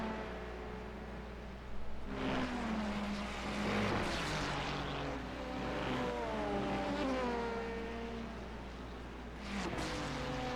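An Acura hypercar in an IMSA racing video game sweeps past from close alongside, its engine note climbing through revs and gear shifts and then falling as it pulls by. A second surge of engine sound follows near the end.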